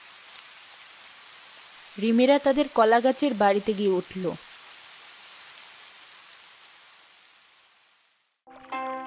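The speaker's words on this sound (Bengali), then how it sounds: "এই দেখো, বন্যার কথা বলতে না বলতে বৃষ্টি শুরু হয়ে গেল।" Heavy rain pours in an animated cartoon about a flooded village, a steady broadband hiss that a narrator's voice speaks over for a couple of seconds before the downpour fades away near the end.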